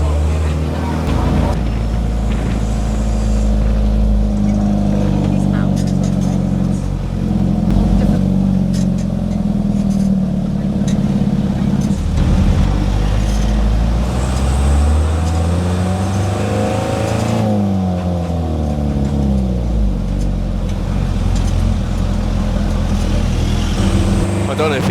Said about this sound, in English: he's throwing this truck around these corners and up these hills, up and down these